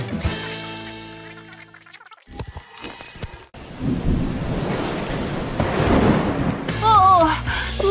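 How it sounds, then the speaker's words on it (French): Heavy rain with rolling thunder, a loud rumbling burst and steady downpour noise following a brief stretch of tonal music and gurgling effects. "il pleut des cordes dehors"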